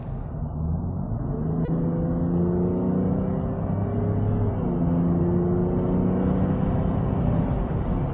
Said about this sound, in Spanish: Mirad cómo sale, mirad.